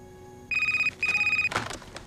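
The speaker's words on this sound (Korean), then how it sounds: "한 통의 전화가 걸려옵니다." A telephone rings with an incoming call in a film scene: two clear, loud electronic ring bursts separated by a short gap, followed by a brief clatter.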